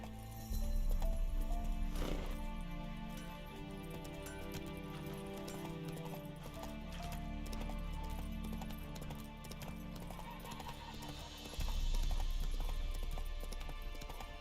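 Hooves of the horse Roach clip-clopping in steady rhythm in The Witcher 3, close and continuous under game music and ambience, with a brief pause before the gait resumes.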